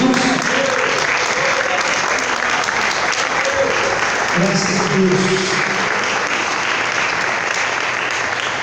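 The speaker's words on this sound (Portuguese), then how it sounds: "Vamos aplaudir o nome do Senhor Jesus" Church congregation applauding the name of Jesus, a loud, dense wash of clapping that runs unbroken, with a voice speaking over it and some low voices or music underneath.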